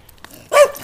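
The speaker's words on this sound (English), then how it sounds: "Bark, bark, bark." A dog in a residential yard gives one short, sharp bark after a moment of near quiet, close and fairly loud.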